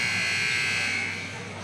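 Buzzer sounding at the end of the first half of a basketball shooting competition, a steady loud electronic tone held for well over a second before tapering slightly, with crowd and commentary beneath.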